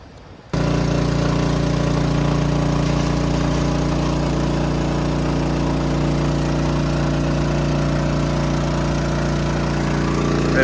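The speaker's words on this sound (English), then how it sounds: "They're pumping it out of the tank." A motorised pump transfers liquid fertiliser out of a tanker into 50,000-litre storage tanks, giving a loud, steady droning hum with a low engine-like rumble. It starts abruptly after a moment of quiet, then runs unchanged throughout, with no talking.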